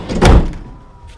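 A campervan door shuts with one heavy, loud thunk close by, then the sound fades into a soft rattle as the door settles.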